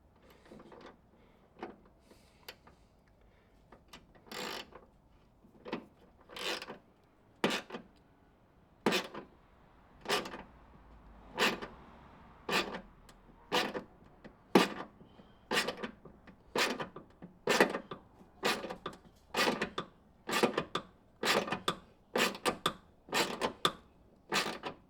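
Repeated sharp clicking ratchet strokes from a hand rivnut tool tightening a rivet nut into the trunk of a Toyota GR86, about twenty crisp clicks in a steady rhythm, close and fairly loud, growing more regular toward the end.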